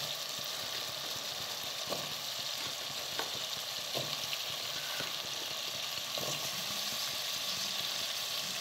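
Chopped potatoes sizzle and fry steadily in a pan of tomato masala for a home-style aloo sabzi, a continuous close hiss with occasional soft stirring scrapes and no talking.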